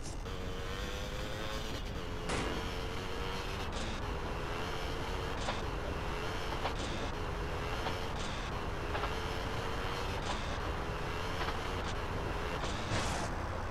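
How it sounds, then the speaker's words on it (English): Train in Grand Theft Auto San Andreas pulling into an underground station, a steady rumbling roll with a whining engine tone and repeated clacks of wheels over rail joints every second or so. "The train is arriving at the station."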